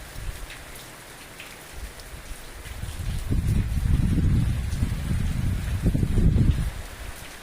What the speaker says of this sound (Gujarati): વરસાદ આવી ગયો ભાઈ ફૂલ જોશમાં પાછો.